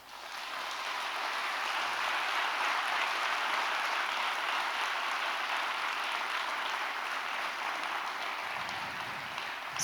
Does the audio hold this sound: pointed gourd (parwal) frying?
no